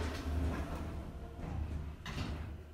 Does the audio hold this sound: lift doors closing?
yes